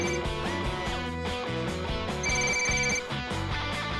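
A telephone rings in a domestic drama scene, its bell-like tone repeating steadily over dense music and background sound, with no talk during the ring.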